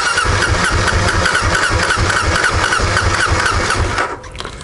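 Kawasaki KLR650 motorcycle engine cranking steadily on a weak battery, a loud continuous rhythmic churn that does not catch, dropping away abruptly near the end.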